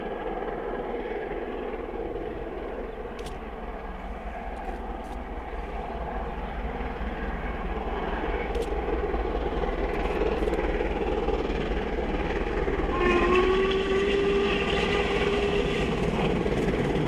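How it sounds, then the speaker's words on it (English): A Stanier Pacific steam locomotive hauls a train across the Isle of Anglesey toward Crewe. It makes a steady, building rumble of running gear and wagons, with a brief whistle-like tone near the end. "After turning at Valley, the train heads back across the Isle of Anglesey,"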